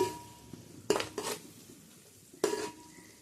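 Garam masala gets stirred into fried prawn rice in a pan, with a few distinct scrapes and knocks of a spoon against metal over a faint background hiss, close and sparse.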